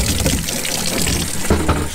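Water runs steadily from a tap into a sink, a continuous close splashing rush with a couple of brief clunks near the end.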